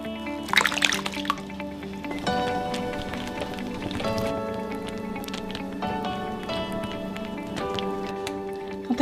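Thick liquid for peach cobbler pours steadily into a dish, a continuous wet trickle that runs for several seconds with a faint ringing tone underneath.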